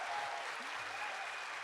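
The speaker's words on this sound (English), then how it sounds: "Come on, everybody, cheer for our first runner." An audience at a Summer Games Done Quick 2018 speedrunning marathon preshow claps and cheers for the first runner, dense steady applause filling the room throughout.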